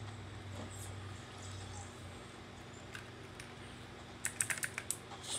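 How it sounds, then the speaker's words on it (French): Keystrokes on a computer keyboard in a quiet room, faint at first, then a quick close burst of several clicking taps near the end. "Ok, regardez ce clavier là."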